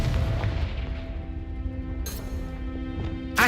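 A Confringo fire spell exploding in Hogwarts Legacy, with a rumbling fiery blast that fades into a low hum, followed by a couple of sharp cracks and a final burst at the end.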